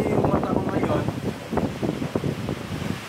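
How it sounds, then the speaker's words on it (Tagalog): Strong gusting wind roars with dense, rushing rain on a rooftop, a loud continuous wash buffeting close to the microphone. "Ating malakas ng ulan, malakas ng hangin."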